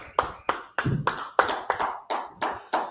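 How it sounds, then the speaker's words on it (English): A group claps in a steady, evenly spaced rhythm at a brotherhood class gathering, about ten sharp, close claps with no talking. "Y'all clap it up."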